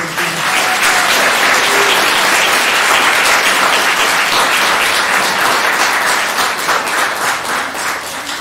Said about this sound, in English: Give a round of applause for everyone.